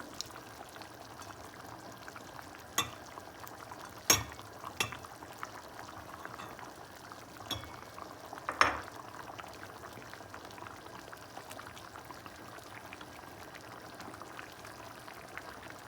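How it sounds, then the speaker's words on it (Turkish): Quiet, continuous bubbling of a pot of chicken rice pilaf simmering, broken by a few sharp clinks and knocks of a lid or spoon; no talking. "Biraz da etimle birlikte kaynasın pilavımız."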